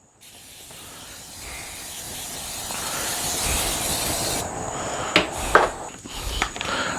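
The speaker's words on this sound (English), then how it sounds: "Go ahead and spray on some spray butter" An aerosol can of butter spray hisses continuously over a turkey before cooking in a pit barrel cooker. The hiss builds slowly and then ends in a few short, sharp bursts.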